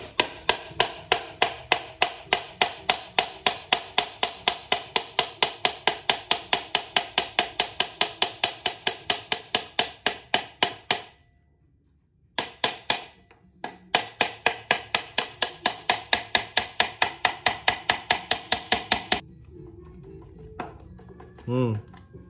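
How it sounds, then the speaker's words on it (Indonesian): A hammer taps gently and rapidly on the crankcase of a Honda Grand, Prima, Supra or Win 100 motorcycle engine during disassembly, making dozens of evenly spaced, sharp metallic knocks with a short pause midway and a final quiet stretch. "Boleh kalian pukul pelan-pelan"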